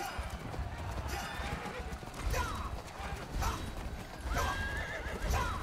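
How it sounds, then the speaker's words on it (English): Rapid clip-clop of galloping horses with whinnies during a horse race in the mobile game Rival Knights, set against a busy, synthetic-sounding background, continuous and fairly loud. "Always winning the horse race."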